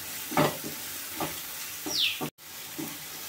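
Onion chili paste frying in a pan in a village kitchen, a steady sizzle with occasional stirring scrapes and a brief drop to silence partway through, no voices.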